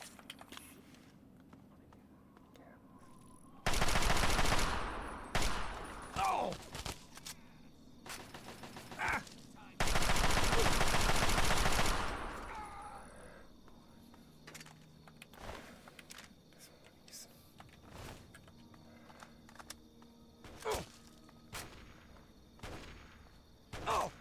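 Sniper rifle fire in the video game Fallout 3 comes as two loud, sustained bursts a few seconds apart, followed by scattered sharp clicks and smaller impacts over quieter game ambience.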